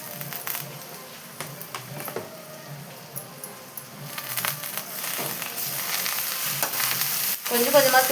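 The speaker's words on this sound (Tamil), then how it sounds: "கொஞ்சம் கொஞ்சமாக சேர்த்து வதக்கிக்கலாம் கீரையை" Drumstick leaves (murungai keerai) sautéing in a pan, with steady soft sizzling and the scrape of a spoon stirring them at intervals, close and fairly loud, with no voices.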